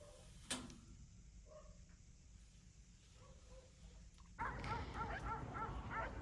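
Several dogs bark and yip at a distance outdoors, with a sharp burst of barking joining in near the end over steady background noise.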